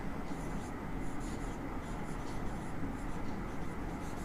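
Hand-writing a trigonometry proof for a class 10 lesson: rapid scratchy pen strokes in short bursts across the clip, close and fairly quiet over a faint steady background hiss.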